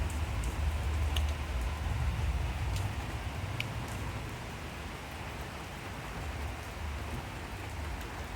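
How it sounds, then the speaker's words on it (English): Steady rain falls in a soft, even hiss with low rumble beneath, a few sharper drops ticking now and then, continuous with no voices. "Yeah, this is a cool rain."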